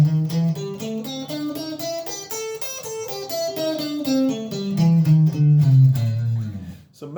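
Guitar playing a minor blues scale, rising note by note and then falling back down in a steady, even rhythm, clear and unaccompanied.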